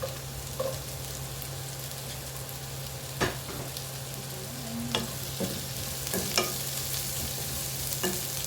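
Garlic-laden food fries in reused oil left over from frying fish, giving a constant close sizzle and hiss with occasional spatula scrapes and stirring knocks, and no voices.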